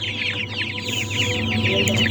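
Chickens cluck busily at a chick seller's stall with week-old chicks for sale, a dense, overlapping chorus of sharp clucks and peeps close by, steady and loud with no talk.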